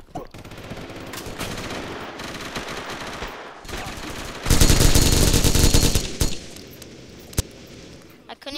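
Sustained rapid minigun fire in a video game, loud and dense, with a brief lull before an even heavier sustained burst midway, then scattered shots trailing off.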